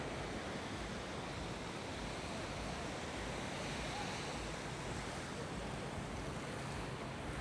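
Surf washes onto a crowded beach in Da Nang as a dense, steady roar of waves mixed with wind buffeting the microphone. It stays loud and unbroken throughout, and no distinct voices stand out.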